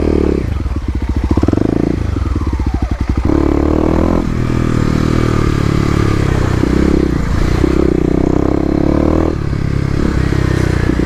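A stage 1 Kawasaki KLX250 dirt bike ridden fast on off-road OHV trails, its single-cylinder engine revving up and down in loud bursts with rattling chain and suspension clatter, close to the rider throughout.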